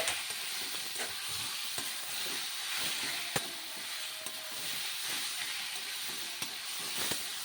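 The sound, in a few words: bottle gourd with turmeric frying and stirred in a wok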